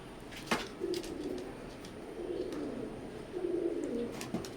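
Teddy pigeons coo in low, soft, rolling bursts, two longer coos standing out, with faint chirps and small clicks around them and no one talking.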